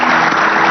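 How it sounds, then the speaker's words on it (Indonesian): A short burst of studio audience clapping for guests on an Indonesian Ramadan religious talk show, loud and dense, filling the whole moment without any voice. "Saya minta tepuk tangannya untuk tamu-tamu saya luar biasa."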